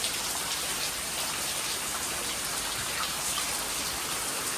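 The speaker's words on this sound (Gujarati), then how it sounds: "ખાસો ચાલુ થઈ ગયો છે વરસાદ" Heavy rain pours down steadily, a dense, even hiss of drops with no pauses and no voices.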